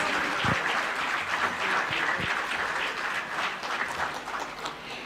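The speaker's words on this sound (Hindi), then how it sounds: "जोरदार तालियां" Audience applause at a government ceremony in Ranchi where appointment letters are handed out and a memento is presented; dense, steady clapping from a large hall crowd lasts throughout at even loudness, with no voices over it.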